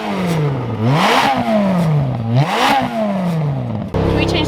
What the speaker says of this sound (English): Can you rev it real quick?